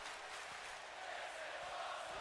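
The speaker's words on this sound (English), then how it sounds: "This is awesome chance by the crowd" Wrestling arena crowd in WWE 2K19 roaring and chanting steadily at a distance, a dense continuous wash of massed voices with no pauses.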